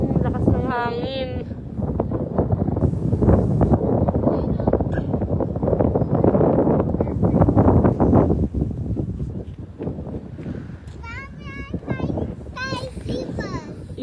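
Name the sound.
strong wind at the seaside corniche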